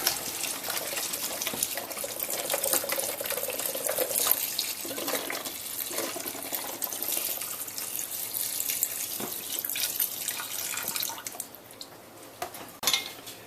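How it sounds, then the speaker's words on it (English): Chicken stock pours steadily into a pot with a continuous splashing rush that gradually thins and trails off into a few faint drips. "I'm going to go ahead and add in 1 quart of chicken stock"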